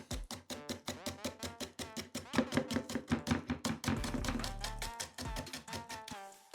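A knife finely chopping spring onion on a cutting board: a fast, steady run of crisp, close taps, sometimes briefly speeding up, with no talk.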